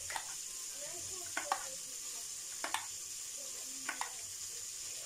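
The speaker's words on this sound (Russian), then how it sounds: "Рыбка жарится" Steady sizzling of fish frying in a pan, with a few sharp crackles and pops over the continuous hiss; no one speaks.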